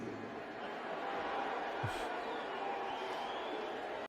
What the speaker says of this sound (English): Cheers, I hear cheers. Okay, I think if someone booed, but mostly cheers